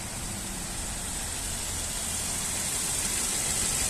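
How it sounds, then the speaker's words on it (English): A steady, even engine hum from an idling 1.8-litre petrol Ford Focus hatchback with a manual gearbox runs continuously beneath a broad hiss of background noise, with no talking. "engine sound nice and smooth"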